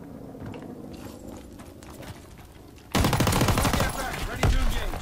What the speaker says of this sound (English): We gotta use some of this machine pistol though.